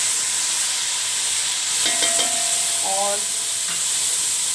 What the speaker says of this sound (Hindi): अब हम इसमें 1 चम्मच अदरक लहसुन डालेंगे। लहसुन को भी अच्छा सा भूनेंगे